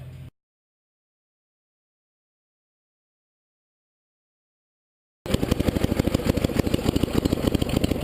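A 1975 Sears Suburban ST16 lawn tractor engine idling with the choke on, a loud, close, rapid steady chugging that starts after a long stretch of silence.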